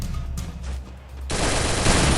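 A rapid burst of automatic gunfire from the game Free Fire erupts after a brief lull, loud and continuous, like a magazine being emptied.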